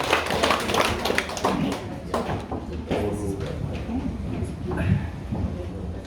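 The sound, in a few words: audience applause for the welcome speaker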